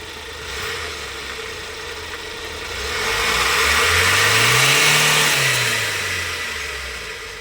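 A Hyundai H100 van engine, which had been cranking without starting, now runs steadily and is revved once in a slow rise and fall over a few seconds before settling back to idle, heard close and without talk.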